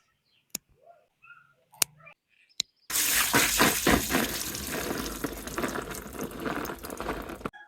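Jujube fruits being washed in water, with a few sharp clicks at first, then continuous close splashing and sloshing that is loud and uneven, with no talk.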